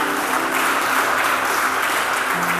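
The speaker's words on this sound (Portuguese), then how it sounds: "Então vamos aplaudir o nome do Senhor." A church congregation applauds together, a dense and steady wash of clapping hands that fills the whole stretch at a consistent loud level with no talk over it.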